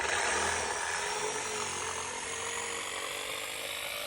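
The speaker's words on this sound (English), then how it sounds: "So here's the beginning of the jigsaw" A jigsaw cuts through a 2x10 wooden board, giving a loud, continuous high-pitched buzzing whine that holds steady with no pauses and no speech.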